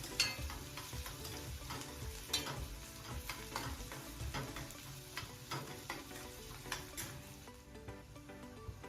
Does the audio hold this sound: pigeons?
no